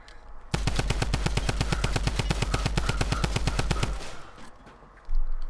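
Rapid automatic gunfire in the Fortnite battle royale video game, a long, steady burst of evenly spaced shots from about half a second to four seconds, loud and close, then a quieter tail before a brief thump.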